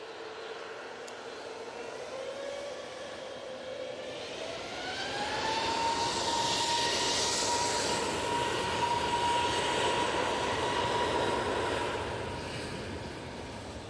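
A plane takes off at Manchester Airport, a distant jet engine roar whose pitch rises as it spools up, swelling louder midway and then holding a steady whine, with no voices.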